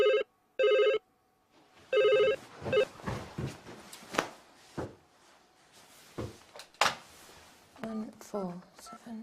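A telephone number is dialed on a landline keypad, a rapid burst of DTMF tones followed by clicks and handling noises, with a muffled recorded voice afterward, heard close in a comedy sketch.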